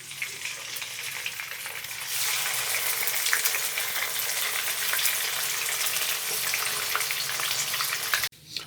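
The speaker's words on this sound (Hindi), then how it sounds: "और हम बाकी मछली को भी फ्राई कर लेंगे।" Fish fry in hot oil in a pan for a fish korma, a steady, loud, close sizzle that swells after two seconds and cuts off abruptly near the end.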